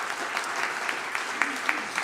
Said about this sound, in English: let us offer another warm round of applause to Father Flavio Villanueva,